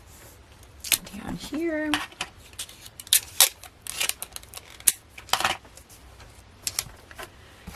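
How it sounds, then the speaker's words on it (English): Paper PDF sewing pattern pieces are taped together: short crackly tape pulls, paper rustling, and sharp clicks and taps come in quick irregular bursts, with a voice speaking briefly. "Taping across there."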